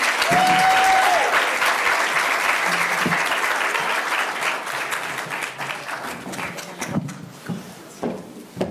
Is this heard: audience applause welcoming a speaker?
yes